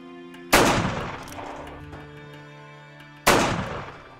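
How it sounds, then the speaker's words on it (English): Two loud gunshots fired from behind cover, about three seconds apart, each a sharp close blast followed by a long ringing decay. "I want you to try and find a spot, fire 2 shots from cover, just keep their heads down, and then try and get closer."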